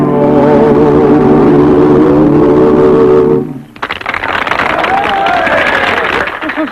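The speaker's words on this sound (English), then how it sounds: "Just listen to that applause and watch their faces." Loud applause and crowd noise from an audience at a barn dance show, following a sustained musical chord that ends abruptly, then a bright clattering wash of clapping with some cheering.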